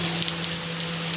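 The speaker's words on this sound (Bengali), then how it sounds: "এবার আমি পেঁয়াজগুলো দিয়ে দিই।" Sliced onions dropped into hot oil in a wok for a spicy lote fish curry, giving a steady close sizzle with faint crackles and a low hum underneath, no talking.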